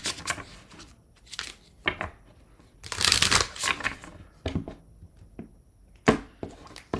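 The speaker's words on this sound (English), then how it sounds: "last deck that's going to get shuffled roughly 3 times" A deck of tarot cards being shuffled by hand, giving bursts of riffling and slapping card noise in an irregular rhythm, close and fairly loud, with no talking.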